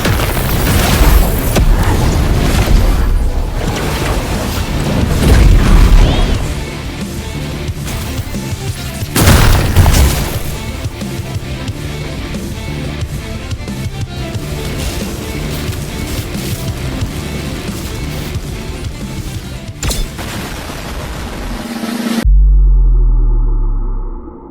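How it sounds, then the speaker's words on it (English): Sasuke's fire moves explode in an anime battleground video game, with repeated loud booms and rumbling bursts that come in several heavy waves over a constant roaring background. "Now let's take a look at some of these fire moves that Sasuke got."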